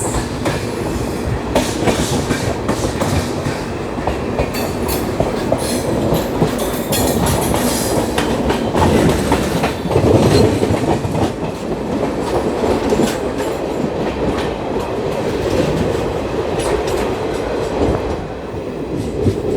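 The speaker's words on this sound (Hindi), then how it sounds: "सो ये है हमारी बेंगलोर राजधानी, हज़रत निज़ामुद्दीन बेंगलोर राजधानी एक्सप्रेस।" The Hazrat Nizamuddin–Bangalore Rajdhani Express rushes past at close range, a loud, continuous rumble with rapid rhythmic clickety-clack of wheels over rail joints lasting the whole stretch, with no voices.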